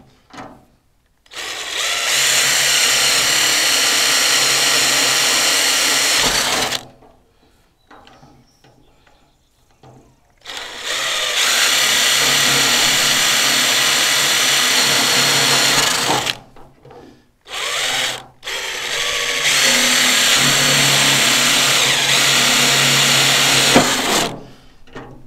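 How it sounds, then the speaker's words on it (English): A power drill whirs loudly in three long bursts drilling holes for a log firewood processor, revving and winding down between holes, with brief quiet gaps. "Just go through and drill a bunch of holes."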